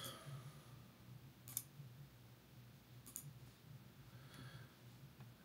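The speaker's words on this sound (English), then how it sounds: "I'm going to click across all these dots." A computer mouse gives a few faint, sharp clicks spaced a second or so apart, in a quiet room with no one speaking.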